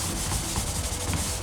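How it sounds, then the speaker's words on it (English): Pallet wood is rubbed with a hand sanding pad in steady, close scraping strokes, producing a continuous gritty rasp with no talking. "these sanding pads are great because they allow you to get in between the crevices, the corners, and around everything really nicely"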